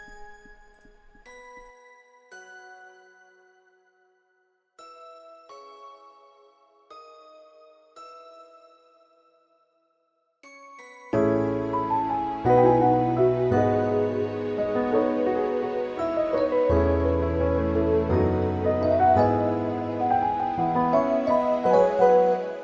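Bell patch from the Expand plugin playing simple sparse stabs alone in a few short phrases with gaps, then joined by a much fuller, louder beat with bass and drums for the rest.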